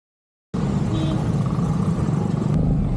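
A car rolls through traffic on Commonwealth Avenue, a steady low engine and road rumble heard from inside, starting abruptly after a brief silence and continuing evenly to the end.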